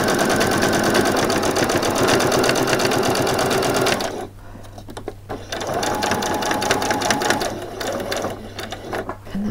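Sewing machine running a back stitch on a small frilled top, a loud steady motor whir for about four seconds, a brief pause, then another continuous run of stitching.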